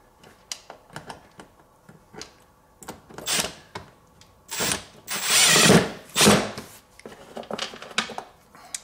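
A power drill drives screws into a Peg Perego Gator ride-on toy during a reverse-gear repair: short whirring bursts building to longer loud runs in the middle, with clicks and handling noises between them, close up.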